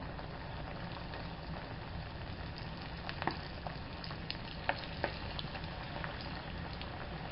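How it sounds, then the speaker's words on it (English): Boneless chicken thighs fry in hot oil in a cast iron skillet with a constant crackling sizzle, broken by occasional sharper pops and spits. "As you can see, it's sizzling. We're gonna drop our chicken in."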